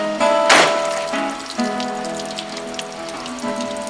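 Water running and dripping out of the drain holes of a rusty junkyard car door, a close, steady patter and trickle with one sharp splash near the start and a faint hum underneath.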